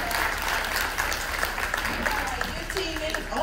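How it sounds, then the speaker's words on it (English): A town hall crowd gives police officers a round of applause, sustained clapping filling the room, with voices talking over it. "can we give them a round of applause?"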